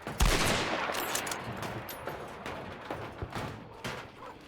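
Gunfire in the Hunt: Showdown video game: a loud shot opens, followed by scattered sharp cracks and echoing reports at a moderate distance.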